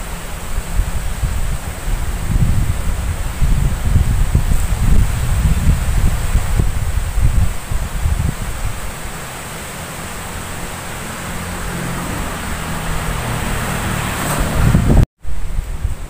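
Strong wind roars through tall trees, coconut palms among them, in a rural garden: a loud, continuous broadband rush with gusty low rumble that eases midway and then swells again, with no voices.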